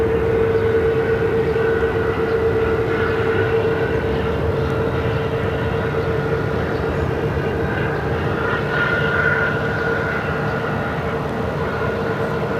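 A Southwest Boeing 737-700 airliner landing on runway 26 at Phoenix, heard as a steady, loud jet roar with a sustained whine, continuous and unchanging throughout.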